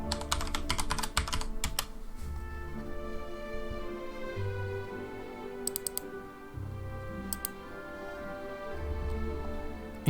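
Rapid keystrokes on a computer keyboard, clicking in quick bursts with brief pauses, as a folder name is typed for a sword mod in Hellish Quart, close and clear over a faint background hum.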